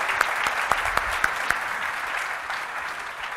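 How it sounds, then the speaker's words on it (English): Conference audience at ng-europe 2016 applauding the organizers, a dense hall-wide clapping with a few sharp individual claps standing out, steady at first and then slowly thinning. "Could you just give a big applause to the organizers of NG Europe, please?"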